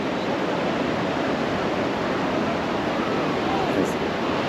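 Sea waves on the beach at Gopalpur at sunset, a steady broadband wash of surf rolling in without distinct breaks, fairly loud and continuous.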